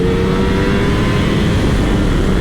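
A Ducati Streetfighter V4 S motorcycle accelerates hard out of a corner, its engine roaring loud and close in a dense, continuous rising drone.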